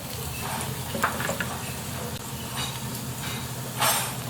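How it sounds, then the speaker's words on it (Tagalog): Garlic and onion tossed into a hot pan, already browned with ginger, give a dense constant sizzle with intermittent stirring scrapes and a brief louder burst near the end, close and moderately loud. "So isasabay na natin yung bawang at sibuyas."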